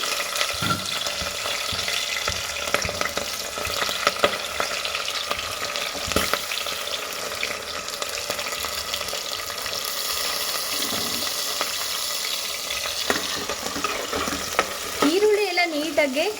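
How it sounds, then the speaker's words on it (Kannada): Onions frying in oil with cinnamon, cloves and green chillies for chicken biryani, a constant sizzle broken by spatula scrapes and knocks against the pan, close by, with a faint voice near the end. "ಈಗ ಈರುಳ್ಳಿ ನೀಟಾಗೆ ಫ್ರೈ ಆಗಿದೆ"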